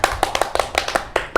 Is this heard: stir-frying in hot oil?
no